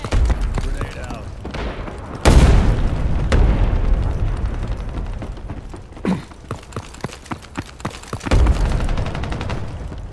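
Grenade blasts in a Ghost in the Shell SAC shooter set in neon ruins: two heavy booms stand out over steady gunfire and mechanical clatter, with a rapid burst of shots between them and voices at times.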